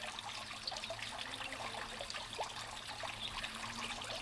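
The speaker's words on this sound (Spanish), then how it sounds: "El susurro que produce el agua" Water trickles steadily from a stone fountain in the cloister of the Romanesque monastery of Bujedo, a soft continuous murmur and splash with no voices.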